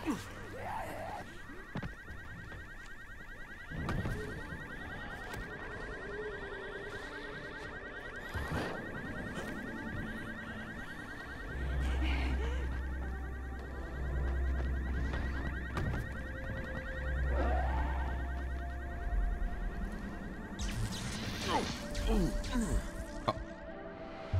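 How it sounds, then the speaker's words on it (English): A continuous electronic alarm wails through a building in the zombie video game Dying Light, a steady pulsing tone running throughout under the game's thuds and effects while a player talks over it. "It's because the alarm is going off in this place."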